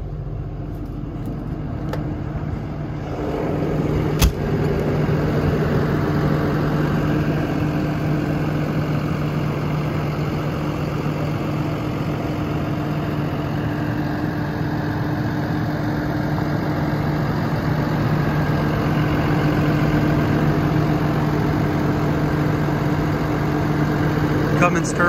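A Cummins 6.7L turbo diesel in a 2014 Freightliner M2 Horton ambulance idles with a steady, loud, low rumble and an even drone. It settles in after a brief knock early on and runs on unchanged, with no talk.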